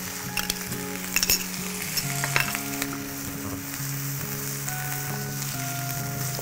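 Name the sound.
tomato puree frying in a pan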